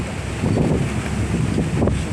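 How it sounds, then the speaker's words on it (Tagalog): Heavy wind buffets the microphone in a steady roar aboard a boat at sea, with the rush of strong waves surging underneath throughout. "Kung makikita nyo, ganyan kalakas ang alon. Ito yung hangin."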